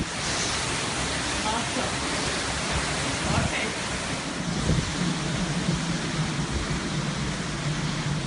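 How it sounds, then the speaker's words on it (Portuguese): A steady, dense roar of howling Hurricane Irma wind in Florida fills the whole stretch, loud and unbroken, with faint rumbles and thuds underneath. "e o furacão está passando bem forte agora, muito barulho."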